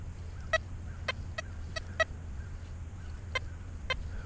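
A Deus metal detector gives a series of short, sharp chirps, about eight of them spaced irregularly over four seconds, each a brief pitched beep over a low steady hum.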